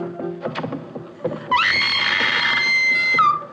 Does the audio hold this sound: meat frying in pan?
no